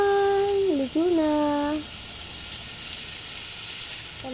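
Beef and giant scallion stir-frying give a steady close hiss of sizzling oil in a pan, with a brief tonal whine early on before the sizzle carries on alone.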